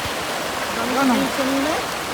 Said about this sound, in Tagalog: lakas ng ragasan ng tubig dito